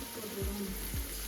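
Ginger sizzles in hot oil alongside green chillies while the masala base for a quail biryani cooks, a steady close frying hiss with a couple of low bumps from the pan.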